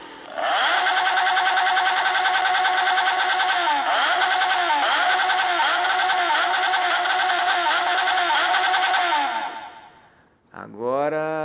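In the Moto Acelerador game, a Yamaha XJ6N 600cc motorcycle engine holds a loud, steady, echoing drone with a few slight pitch wobbles, then fades away before a short, sharp rev rises at the end.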